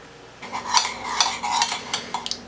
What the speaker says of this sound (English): I'm going to put this on the stove just to warm and mix together